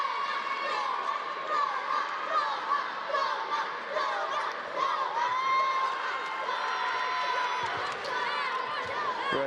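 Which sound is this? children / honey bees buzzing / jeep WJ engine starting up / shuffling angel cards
children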